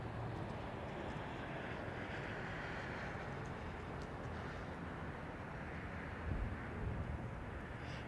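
Airliner on final approach arriving at Heathrow, a steady broadband jet roar heard from a distance that stays even and fairly quiet for the whole stretch, with no talk.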